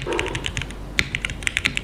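Crisp mechanical keyboard typing on a Frog TKL keyboard without foam, a run of clicky keystrokes in an uneven rhythm, close and clear with no talking.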